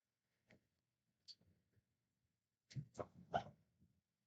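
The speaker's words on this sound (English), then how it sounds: "This dog wants to go out." A female dog wanting to go out gives a few short, quiet barks indoors, two isolated yips followed by a quick burst of three or four barks.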